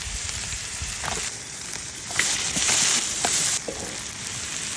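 Meat sizzles steadily in a hot pan as kuyrdak, a fried meat dish, is cooked. The close, continuous frying carries occasional louder crackles and stirring, with no talking.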